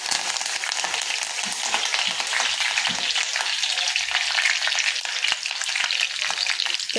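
Mustard seeds and curry leaves sizzle and crackle in hot oil for a Maharashtrian alu vadi and alu bhaji dish, a loud, dense, continuous spitting and popping close by with no talk.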